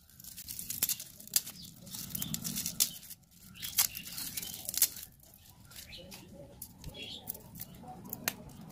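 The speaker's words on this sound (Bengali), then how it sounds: "আমি এবার এই রসুনের খোসাগুলিকে ছাড়িয়ে নেব।" Garlic skins are peeled off by hand near the microphone, making short papery crackles and tearing rustles in irregular bursts with brief pauses between them.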